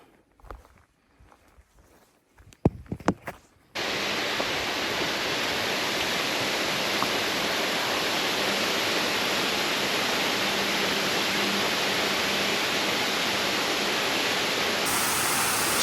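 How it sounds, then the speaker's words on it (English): Footsteps on a forest trail give way abruptly to the loud, steady roar of Jones Waterfall on the Appalachian Trail, a dense rushing wash of falling water close by that continues unbroken to the end. "Jones Waterfall."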